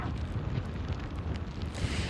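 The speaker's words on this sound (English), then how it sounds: "It's pretty windy out here at Alki Beach where we are currently." Strong wind at Alki Beach, Washington, during a storm with heavy rain and high winds, buffets the microphone in a steady, loud, rumbling roar with gusty surges throughout.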